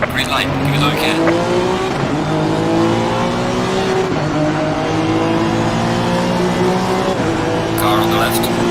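Race car engines roar together at the start of a race in Assetto Corsa Competizione, pitches climbing steadily as the field accelerates, with occasional tire squeal in a loud, continuous wash of engine noise.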